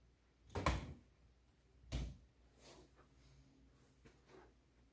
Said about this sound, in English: So I'm gonna shut the doors.